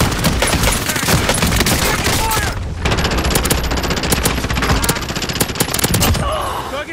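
Loud, sustained automatic fire from a turret in a video game, rapid rattling bursts nearly filling the clip with a brief pause midway, then more shots before it tapers off.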